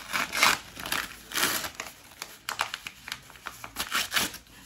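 Crinkly plastic wrapping around a rare variegated Hoya plant crackles and rustles as it is unwrapped, close and fairly quiet, in bursts of crumpling with short pauses between.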